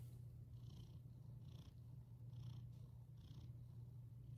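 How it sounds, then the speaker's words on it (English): A cat named Pee-wee purrs loudly and steadily up close, a low continuous rumble with soft rhythmic breathing pulses recurring about once a second, with no talking. "He's purring so loud."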